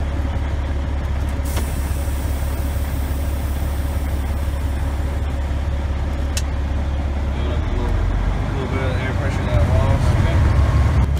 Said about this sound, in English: let's crank the truck back up and